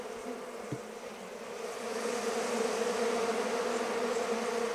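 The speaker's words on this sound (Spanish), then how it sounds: "Mira el zumbido, triste el zumbido." A sick, varroa-infested honeybee colony buzzes in a steady, droning hum that swells slightly louder partway through, close and continuous with no voices.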